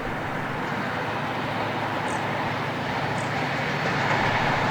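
Steady, loud rumble of a High Speed Train running on rails just after exiting a tunnel near Finchley Road, London, with continuous rolling roar and faint rhythmic rattle, heard from the driver's cab, no voices.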